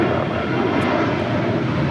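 A jet airliner at Los Angeles International Airport roars steadily and loudly, a broad continuous engine rumble with no break across the moment.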